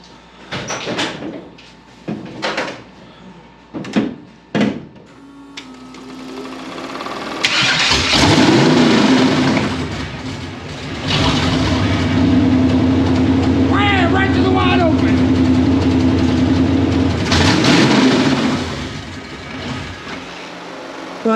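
Chevrolet K5 Blazer engine cranking in short bursts, then catching and settling into a steady rumbling idle, close and loud, with people talking over it.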